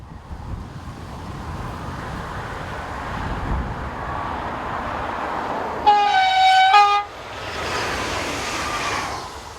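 A local train on the Mâcon to Chalon-sur-Saône line, unit Z27599, rumbles past steadily, then sounds a loud two-note horn blast lasting about a second before the rolling noise carries on.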